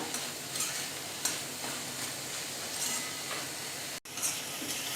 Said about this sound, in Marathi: त्याच्यासोबत थोडीशी कोथिंबीर पण घालून घेऊया म्हणजे कोथिंबीरचा स्वाद खूप छान लागतो पुन्हा एकदा मिक्स करून घेऊया